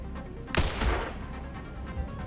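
Gunfire from shooting enemies in the Resident Evil Requiem video game, a loud close burst of shots followed by a decaying rumble and quieter trailing sounds.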